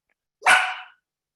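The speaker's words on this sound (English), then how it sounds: "And Jill's dog definitely agrees" A dog gives one short, sharp bark at close range, alone in otherwise silent surroundings.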